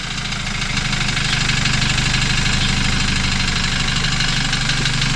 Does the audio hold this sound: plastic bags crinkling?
no